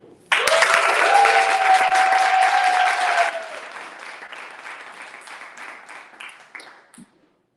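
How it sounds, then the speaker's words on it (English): An audience bursts into loud applause for the owners of a custom paint-event business at a pitch competition, holding strong for about three seconds before thinning into scattered, fading claps that stop abruptly. "I want to make sure to give an extra round of applause for Brandon and Iwaniki Hawkins"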